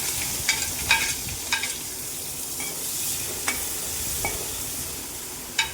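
Onion hitting a hot pan and frying for a jackfruit-seed oats upma, a steady sizzle with scattered crackles and stirring clicks, fairly close, with no voices.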